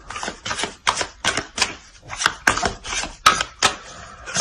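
Playing cards shuffled during a tarot reading, a run of quick papery riffles and snaps in short bursts, close and fairly loud with no talking over them.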